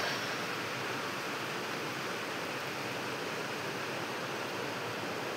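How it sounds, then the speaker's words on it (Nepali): Water being poured onto flowers, a steady, even rushing hiss that stays close and constant throughout with no pauses. "म चाहिँ यहाँ फुलमा पानी हालिरहेको छु"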